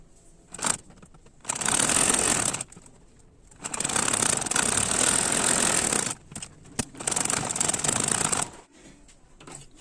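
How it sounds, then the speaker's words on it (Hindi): An electric sewing machine stitches a half-collar blouse in three loud, close, steady runs of rapid whirring, separated by short pauses with light handling clicks of the fabric and machine. "इसमें सिलाई लगाएंगे"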